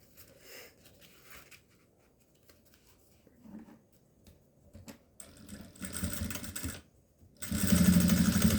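A sewing machine stitches fabric for a toiletry bag in short, intermittent runs, starting faint and building to louder, longer bursts near the end.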